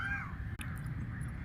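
A single crow caws briefly overhead above a terrace after rain, a short distant call at the start followed by quiet outdoor ambience and a faint click.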